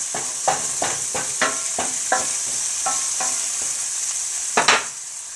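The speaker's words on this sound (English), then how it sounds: "I'm going to saute these a little bit until they shrink" Pre-cut mushrooms sauté in a pan with a steady bright sizzle, punctuated by a series of regular scraping stirs from a utensil and a couple of louder knocks near the end.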